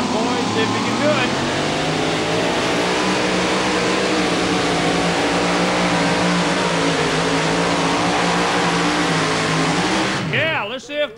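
A KB Hemi-powered 2005 Chevy Colorado at a 2WD truck pull roars at full throttle, a loud, sustained, harmonic-rich engine blare lasting about ten seconds before it drops away, with announcer talk mixed in.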